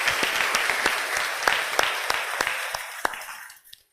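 A church congregation applauding the Gospel at a Spanish and Q'anjob'al Mass, a dense burst of many hands clapping loudly together before quickly tapering off into silence.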